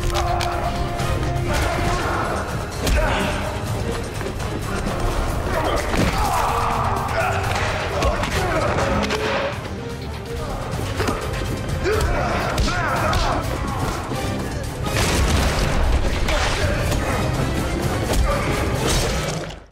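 Bare-handed brawl from a mafia action film, dense thumps, whacks and crashes under a steady film soundtrack, with voices heard at times.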